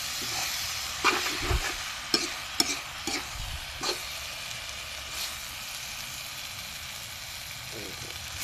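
Sizzling instant noodles stir-frying in a hot wok with several sharp clattering scrapes of a spatula early on, then a steady quieter hiss.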